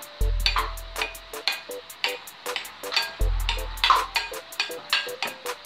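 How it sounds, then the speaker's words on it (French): A spoon stirs Vietnamese-style aubergine ratatouille in a pan, giving repeated close scraping and clinking strokes in a steady rhythm over a faint sizzle, with two short low thumps, no talking. "Je mélange."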